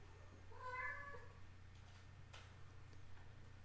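Kittens meow with their mother cat in the background, a cluster of thin, high mewing calls near the start and then fainter chirps, over a steady low electrical hum.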